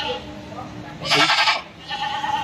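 A goat at a goat market in Bhopal lets out a loud, close bleat, with a second shorter cry after it, while people talk nearby.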